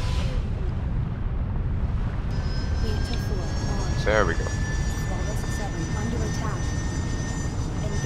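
A Manta aircraft launches from a carrier in Carrier Command Gaea Mission, a loud steady engine roar with a rising whine, while a voice speaks briefly over it.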